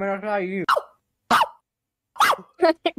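A person imitates a big dog barking, giving several short, loud, rough vocal barks spaced out with pauses after an initial spoken phrase.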